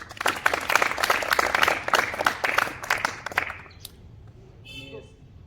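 An audience at a school for the blind claps to welcome a gift of two cricket bats, many hands beating in a loud, dense burst that thins out and stops, leaving brief quiet background sounds.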